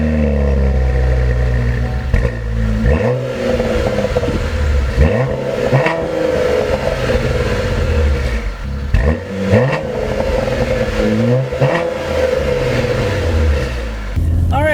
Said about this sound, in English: All right, so setting off in the 2016 Cadillac ATS-V.